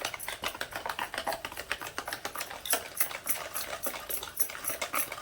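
Sugar is stirred by hand into a sponge vanilla cake batter in a bowl, with quick, evenly spaced tapping strokes that repeat steadily throughout at close range.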